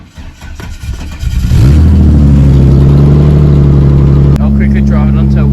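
A car engine on a V-engined project car cranks and catches, then settles into a loud steady high idle with a brief blip, close to the microphone.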